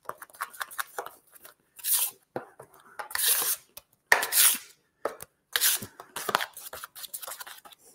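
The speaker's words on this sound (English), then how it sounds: "So you're gonna work it with the tip of that knife, doing circles, okay?" A drywall knife tip works quick-setting joint compound over mesh tape in circular strokes, giving repeated short scraping and crunchy smearing bursts, close and moderately loud, with pauses between passes.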